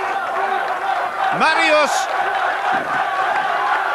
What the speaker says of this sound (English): The crowd roaring him on.